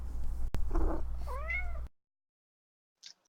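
A person imitates a cat's meow with a short rising and falling call, near and fairly clear, followed by a brief pause and a faint small sound.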